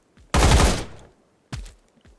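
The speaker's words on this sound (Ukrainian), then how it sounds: "Просто будемо стрілятися собі." Gunfire in a Roblox shooter game styled after CS:GO: a loud burst of rapid shots lasting about half a second, then a single shorter shot and a faint click, sharp and up close.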